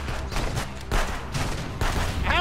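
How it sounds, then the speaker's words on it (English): Rapid gunshots in the police-checkpoint video game Contraband Police, a burst of several close, sharp shots in quick succession. "How many times do I have to shoot this guy in the face?"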